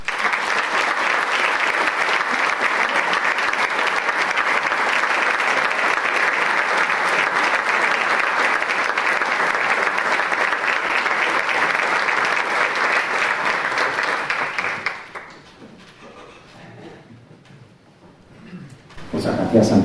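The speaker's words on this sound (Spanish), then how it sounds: "recibamos con un fuerte aplauso a don Víctor Iniesta Sepúlveda." Loud, sustained audience applause welcoming a speaker at a lecture on a crucifix sculpture, a steady wall of clapping for about fifteen seconds that then cuts off to quiet room noise before a voice starts.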